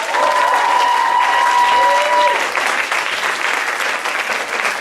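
Festival crowd applauds performers and attendees, a loud continuous burst of clapping with a whistle rising over it early on.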